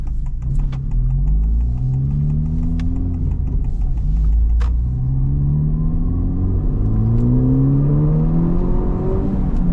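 A Honda Civic Type R FL5 with its exhaust valve stuck fully open drives along, a loud, close engine and exhaust rumble rising and falling in pitch through repeated accelerations.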